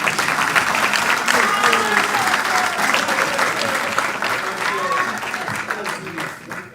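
Audience applause at a professorial inauguration at a Johannesburg business school, loud continuous clapping with a few whistles and cheers threaded through the crowd noise.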